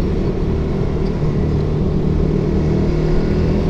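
A motorcycle engine running on a public road: a loud, steady, close drone of engine and wind noise throughout, with no break and no voices.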